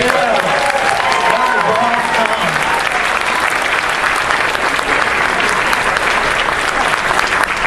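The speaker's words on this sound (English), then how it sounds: "one more round of applause for" An audience at the FenCon VIII science fiction convention opening ceremony gives a full round of applause. The clapping is loud, dense and sustained for nearly eight seconds, with some cheering voices mixed in.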